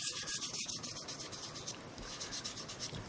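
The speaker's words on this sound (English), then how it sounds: "Very, very lightly sanding it." Very light hand sanding of a polyurethane finish on a guitar neck: soft, quiet, rhythmic back-and-forth rasping strokes, close up, with no talking.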